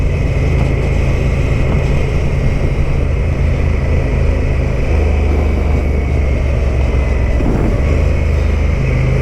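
A Honda motorcycle engine drones steadily and loudly, with engine braking while downshifting; a continuous low mechanical hum with no voices.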